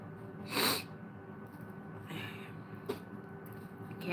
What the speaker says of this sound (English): Can't deal with the sneezing fits today.